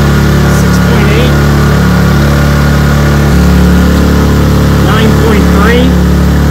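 Two Honda generators run together while powering central air and a fan. The engines give a loud, steady, close drone with a constant low hum, and the engine note shifts slightly partway through.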